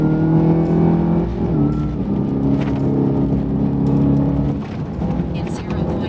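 An off-road race truck drives over dirt on a long desert run, its engine droning with a steady harmonic whine and slight pitch shifts, someone talking over the noise.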